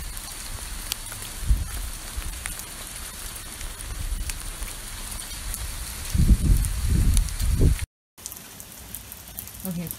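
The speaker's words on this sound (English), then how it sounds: "we're getting a mixture of snow and hail" Hail mixed with snow falling outdoors in Lake Elsinore, a steady fine patter and hiss with a few heavier bursts of wind buffeting near the end and a brief dropout.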